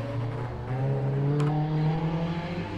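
A turbocharged and supercharged Mark II car drives a gymkhana warm-up section, its engine a steady droning, whirring note that climbs slightly in pitch, moderately close and continuous without talk.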